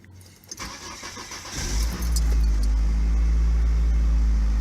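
A car engine cranks and catches after the key is turned, rising from quiet clicking into a loud, steady close-up idle that holds to the end, on a car with low fluid and a suspected transmission O-ring leak.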